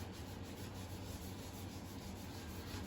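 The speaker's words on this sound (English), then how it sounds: "You want to rub it in good. Because it is an in the wood finish rather than an on the wood finish." In-the-wood finish being rubbed by hand into a wooden charcuterie board with butterfly inlays, a steady close, soft scrubbing friction with no pauses.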